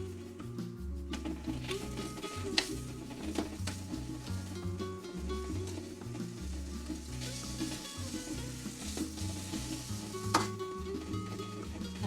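Korean beef stir fry cooking in a new wok, with a steady, loud sizzle that runs the whole way through. Clattering stirring and tossing noises and rhythmic mechanical ticks are layered over it.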